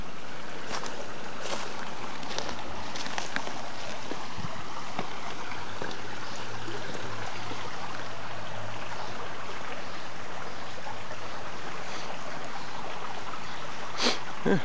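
Water flowing steadily along a mill brook beside an old stone wall: a continuous broadband rush and hiss at moderate level, close by and unbroken for the whole stretch, with no talking.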